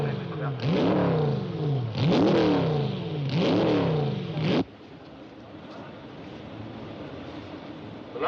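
Three 1966 Grand Prix racing cars, Ferraris, Hondas and BRMs among the field, scream past one after another at full speed, each rising and falling in pitch, loud and close, then fading into a quieter background rumble.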